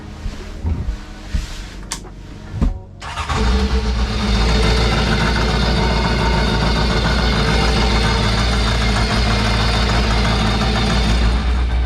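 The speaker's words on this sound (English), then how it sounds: "I'm gonna fire this thing up. I'm gonna let it run for like 8 minutes again." A Yamaha jet boat engine starts up and settles into a steady, loud idle while warming up in cold weather, with a continuous low rumble after a few seconds of starter and handling noise.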